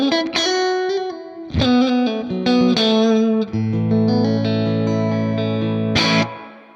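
Electric guitar chords ring out through a Fender Twin Reverb amp model on a Valeton GP-200, with a splashy spring reverb tail trailing after each strum, moderately loud, no voices.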